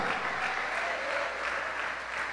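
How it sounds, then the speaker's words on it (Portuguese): A church congregation claps together during a sermon, a steady wash of applause at moderate volume with faint voices mixed in throughout the short stretch. "Vamos aplaudir o Senhor."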